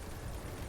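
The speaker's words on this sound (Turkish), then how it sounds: "O helikopter geldi." Helicopter in Grand Theft Auto 3, a steady low rotor and engine rumble filling the moment, constant and fairly loud with no voices over it.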